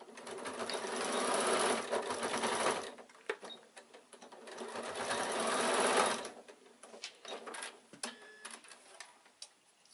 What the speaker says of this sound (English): fold that up and reinforce by top stitching along the seam